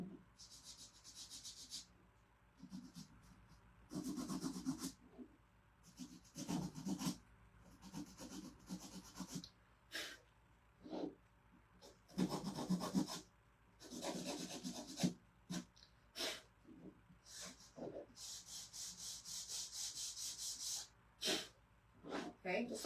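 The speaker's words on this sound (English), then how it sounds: "go around the edge and just sand off a little bit" Sanding around the edge of a small wooden craft house, repeated scratchy rubbing strokes in short bursts with pauses, close and soft, with a person talking in between.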